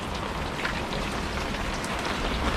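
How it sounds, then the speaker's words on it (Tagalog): Heavy rain pouring steadily in the rural Philippine countryside, a dense, constant hiss of drops drumming on surfaces with no letup and no voices. "Grabing lakas ng ulan."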